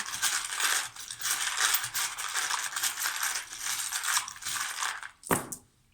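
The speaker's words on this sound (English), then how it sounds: "Let me just shuffle." A deck of cards is shuffled for a reading: a steady, crisp riffling crackle runs for about five seconds, close up and with no talking, and ends in a sharp snap.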